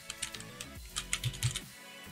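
Clicky keystrokes on a computer keyboard while text is typed into a PowerPoint text box, a quick irregular run of close taps with short pauses, no voice.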